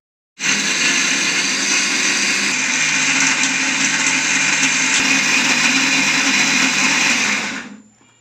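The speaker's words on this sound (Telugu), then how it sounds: "మళ్ళీ మూత పెట్టి మిక్సీ వేసుకోవాలి." A mixer grinder blends groundnut chutney with a little water. Its loud, steady motor whir starts abruptly, holds for about seven seconds and winds down at the end, with no talking.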